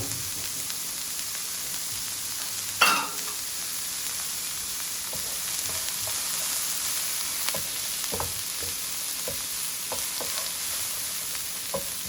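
A stuffing mixture with herbs and cracked black pepper sizzles steadily in a pan, a soft continuous hiss with a sharp clatter near the start and faint scattered pops.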